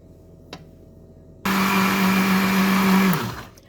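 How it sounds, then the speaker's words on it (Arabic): An electric blender starts abruptly and grinds a tahini mixture loudly with a steady high whine, then spins down and stops near the end. "انا كده بضرب في الخلاط"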